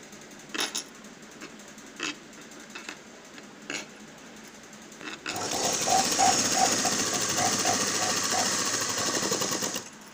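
A sewing machine stitches a ready-made dress sleeve with black thread, whirring in a steady, close run after a few quiet clicks and taps at the start.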